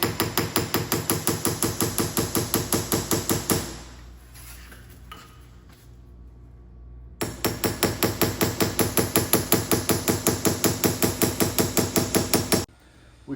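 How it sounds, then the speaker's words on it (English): A hammer strikes a steel saw plate along its centre line on an anvil in a woodworking school, with rapid, even, ringing blows in two long runs separated by a few seconds of quieter pause. "So now we've taken it to the anvil and we're hitting that center line"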